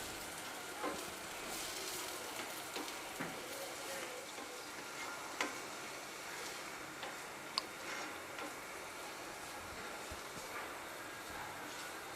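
Tomatoes being stirred and mixed in a frying pan for corn chaat, with a steady soft sizzle and scattered light scraping ticks of the spoon throughout, close and fairly quiet, with no talking.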